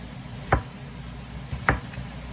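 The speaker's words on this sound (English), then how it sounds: "So I like to slice first into rings like this, as thinly as you can." A kitchen knife slicing an ingredient into thin rings for a vegan Caesar salad, two distinct chopping knocks on the board about a second apart, close and clear.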